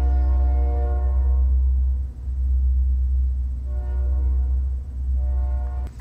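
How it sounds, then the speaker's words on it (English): A passing train fills the scene with heavy low rumbling and repeated long horn blasts that rise and fade, loud and close, with no talking. "I'll wait till the train passes to continue on."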